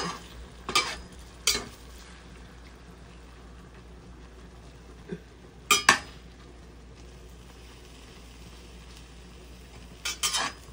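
Eggs and sausage cooking together in a pan for an omelette, a low steady frying hiss with several sharp clinks and scrapes of a utensil against the pan.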